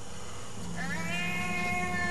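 A cat meows once, a drawn-out rising then falling cry that starts partway through, fairly loud and close over a constant background hum, no voices.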